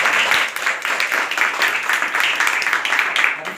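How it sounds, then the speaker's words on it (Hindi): Dense, continuous applause from an event audience at an honour ceremony for a school manager and pandemic-era frontline workers in Varanasi, loud and steady throughout with no pauses. "एक बार चाहूंगा जोरदार आपके लिए तालियों से।"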